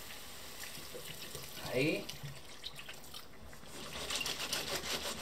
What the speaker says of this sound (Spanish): echaremos lo que ya es el agua